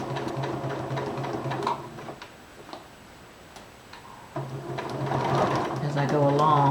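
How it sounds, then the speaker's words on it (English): A domestic sewing machine stitches a tower placket in steady rapid bursts, pausing briefly midway before running again, with a voice talking over the stitching. "I'm sewing right from point to point"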